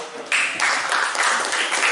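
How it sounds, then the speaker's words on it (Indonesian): Students in a chemistry classroom lesson clap briefly: a short burst of applause starts abruptly after a quiet moment and continues evenly for under two seconds. "Terima kasih, tepuk tangan."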